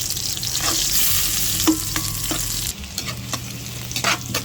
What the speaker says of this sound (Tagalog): Magigisang gulay tayo